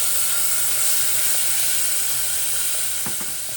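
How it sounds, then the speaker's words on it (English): Bacon frying in olive oil in a pot for a traditional Frankfurt green split pea soup, giving a steady, close broadband sizzle and hiss throughout with a few faint stirring clicks near the end. "we start out with a little olive oil, and we will use our bacon because it will release very quickly some fat"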